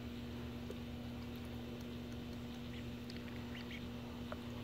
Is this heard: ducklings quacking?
yes